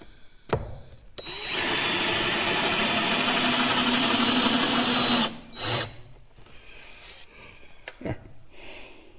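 A power driver screwing short tongue-and-groove boards onto a cabin ceiling, a loud, steady whirring run of a few seconds, with knocks and handling sounds before and after.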